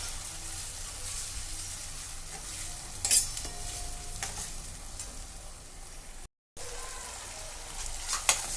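Chopped tomatoes cook slowly in a pan over a medium gas flame, with a continuous soft sizzle and light stirring and spoon scrapes on top. A brief dropout comes near the end.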